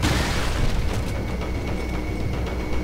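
Gunfire in the survival-horror game Resident Evil 4: heavy booming shots fire in quick succession over a dense, rumbling game soundscape, loud and close, with no talking.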